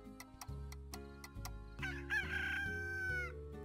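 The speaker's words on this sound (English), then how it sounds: "Cock-a-doodle-doo." A game rooster in Slime Rancher crows one long, loud cock-a-doodle-doo over a backdrop of steady ambient music, rising sharply partway through and holding for over a second before fading.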